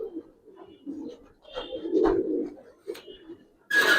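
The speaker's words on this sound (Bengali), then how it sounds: "কবুতর অনেক আছে" Pigeons in a Palla-line loft coo in low, rolling, repeated phrases, close and moderately loud, with a burst of noise at the very end.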